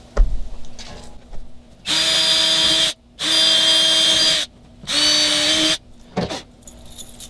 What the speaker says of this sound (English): So I'm going to drill 3.